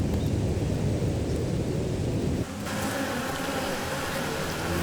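Hornets buzz in a dense, continuous drone close to the microphone, loud throughout, with an abrupt shift in tone partway through and no voices.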